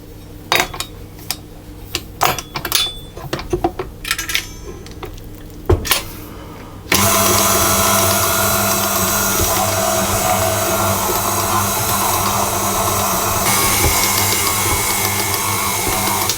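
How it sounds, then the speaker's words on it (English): A stand mixer with a dough hook kneads focaccia dough, a steady, loud broadband whir that starts abruptly partway through after some clinking and handling noises, then runs continuously to the end. "I'm now going to switch to my dough hook, and I'm going to knead it with the dough hook for 15 minutes."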